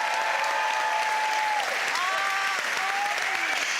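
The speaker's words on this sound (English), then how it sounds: "Please, let's hear it for the brilliant Al!" A television panel show audience applauds a guest named Al, a dense, steady burst of clapping with a few whoops and cheers rising above it.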